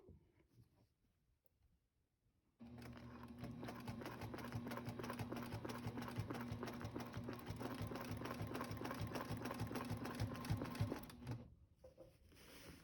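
Sewing machine stitching a decorative border, a steady rapid mechanical clatter running for about nine seconds, close and alone after a quiet start.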